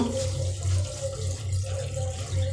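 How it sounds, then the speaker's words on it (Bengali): Water running from a kitchen tap while vegetables and a fish head are cooking, a steady close rushing stream that swells and dips a little without stopping. "এই কলের থেকে জল নিয়ে নিচ্ছি"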